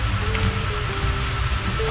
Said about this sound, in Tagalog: Labot na tayo ng ulan